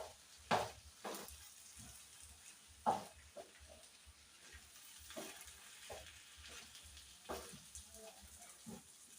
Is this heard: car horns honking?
no